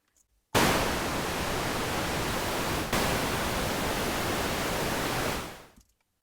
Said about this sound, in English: you can see here noise, which is in the name white noise to suggest it.